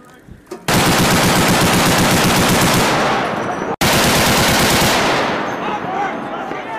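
Machine gun fire during military training: two long, loud sustained bursts of rapid automatic shots, separated by a brief gap, close and dominant.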